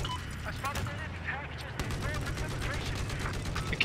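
Gunfire in Battlefield 4 on the Giant of Karelia map, with repeated rapid shots and mechanical clatter mixed into busy game noise, and a voice talking underneath.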